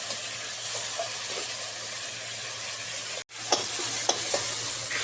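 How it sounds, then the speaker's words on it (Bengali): Chopped tomatoes are stirred into frying onion and garlic for lentil dal, with a continuous close sizzle and a few spoon scrapes after a brief pause near the end. "টমেটো দিয়ে একটু নাড়তে হবে"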